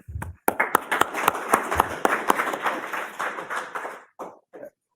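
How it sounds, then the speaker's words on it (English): An audience at a national awards ceremony claps for the winners, with close, crisp claps swelling quickly and then fading out after about four seconds, followed by brief murmurs. "I'd like to give another round of applause to all our winners today."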